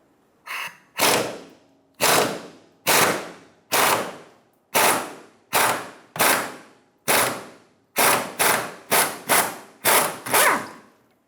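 An air impact wrench fires about thirteen short, loud, close rattling bursts at a regular pace, spinning a 14mm fuel tank strap bolt off a 2000-2006 Toyota Tundra.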